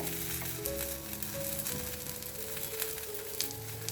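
Curd-based breakfast batter roasts in a pan with a continuous, fairly loud sizzle and crackle. Faint steady tones sit underneath, and no one speaks.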